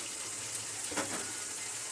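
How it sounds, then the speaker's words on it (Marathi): Water splashes and hisses briefly into a pan of hot oil for cashew curry, a short gushing pour over a steady background hiss. "पाणी टाकूया"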